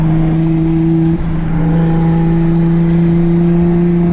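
A loud 600 hp turbocharged BMW 335i engine drones steadily up close, with strong low humming tones and a faint whir that dips briefly before settling back.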